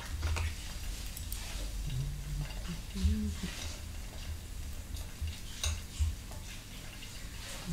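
Tofu pan-fried on a charcoal stove in Shanghai gives a faint steady sizzle, with light clinks and scrapes of a utensil as pieces are turned, and a low voice now and then.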